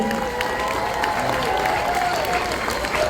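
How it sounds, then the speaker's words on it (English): An audience at a Scream fan convention Q&A gives steady applause with some cheering, dense continuous clapping filling the room for the whole stretch. "please let's have a big round of applause for Tony Revolori"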